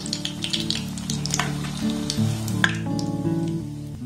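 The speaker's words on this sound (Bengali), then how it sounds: "আর একইভাবে সবগুলোকে আমি সুন্দর করে ভেজে নেব" A homemade snack fries in hot oil with a steady, close sizzle and light crackle, layered under tonal background music for the whole stretch.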